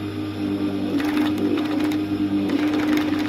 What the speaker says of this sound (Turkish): Makinam hem kesiyor hem dikişi gerçekleştiriyor.